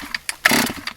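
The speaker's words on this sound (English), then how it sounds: "You're really not supposed to drop start a chainsaw" A chainsaw drop started outdoors with the choke on, giving a few short pulls followed by a brief loud sputtering burst from the engine that fails to keep running.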